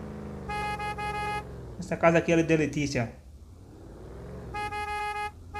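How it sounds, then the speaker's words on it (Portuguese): A car horn beeps in two sustained tonal blasts, near and loud, outside a house with a Volkswagen Amarok V6 nearby; someone talks between the honks. "Tem que buzinar"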